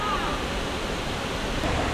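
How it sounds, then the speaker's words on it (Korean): Cambugahay waterfall on Siquijor, Philippines, a steady broadband rush of falling water that fills the whole moment, loud and continuous. "깜부가이 폭포?"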